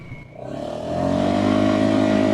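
A 2025 Polaris Sportsman 570 2UP ATV engine revs up hard over a small dirt hoop jump, its rising engine note building to a loud, steady drone with no talking.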